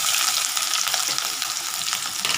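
Ginger frying in hot oil in a pan while Nellore puliyodharai is being made, a loud, steady, crackling sizzle with light stirring throughout.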